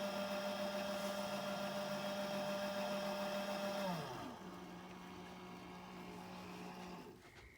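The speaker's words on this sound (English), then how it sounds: "the scale's dropping our next powder charge" An RCBS Chargemaster 1500 powder scale dispenses a charge with a steady electric motor whir that drops in pitch and winds down, then a soft click, faint and close in a quiet room.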